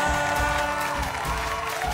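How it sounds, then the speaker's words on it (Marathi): Applause from a women's event audience fills the space in a dense, steady wash of clapping with faint cheers, loud and continuous throughout. "एकदा जोरदार टाळ्या."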